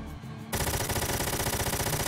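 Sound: mech barrage gunfire in video game Front Mission 4

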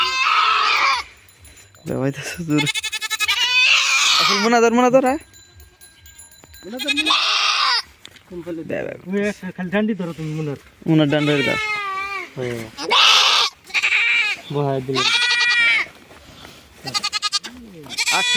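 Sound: goat bleating

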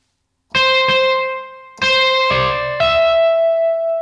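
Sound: guitar through amp simulator with mountain reverb effect

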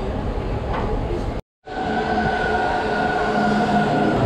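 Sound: Amsterdam subway train

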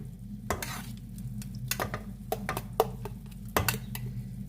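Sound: stirring and roasting in a pan

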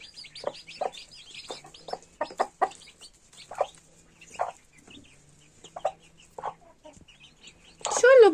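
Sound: chickens clucking

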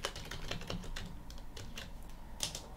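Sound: typing on a computer keyboard

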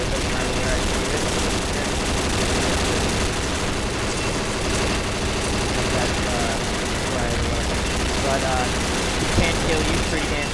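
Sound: gunfire in the video game Combat Arms

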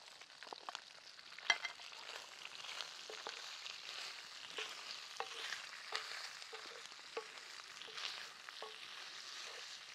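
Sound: chorizo, bacon and sausage frying in a pan

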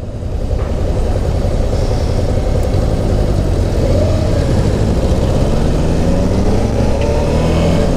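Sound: four-cylinder engine revving

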